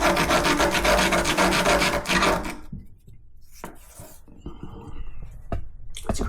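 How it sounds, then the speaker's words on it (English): A hand tool scrapes grout lines between shower tiles, a loud gritty rasping for the first couple of seconds, then softer scattered scrapes and taps, with quiet talk in the background. "Let's scrape it down."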